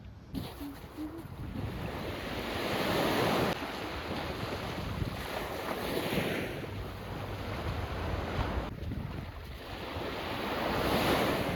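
Ocean waves wash steadily onto a Greek island beach on Paros or Naxos, a continuous roaring surf with gusts of wind buffeting the microphone and no voices.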